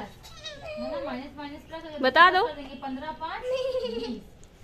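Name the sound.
person imitating a goat bleating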